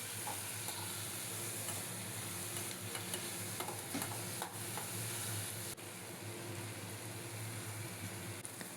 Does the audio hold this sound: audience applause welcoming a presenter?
no